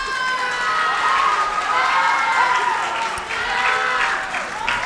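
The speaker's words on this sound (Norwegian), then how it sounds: "applaus!" Audience applause and cheering at a Norwegian gathering: a dense, loud wash of clapping with shouting voices mixed in, holding steady for several seconds with a brief dip near the end.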